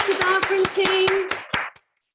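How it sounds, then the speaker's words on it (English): Applause at a school's festive assembly, a burst of clapping from the hall that fades out after under two seconds, with a voice heard over it. "a huge round of applause"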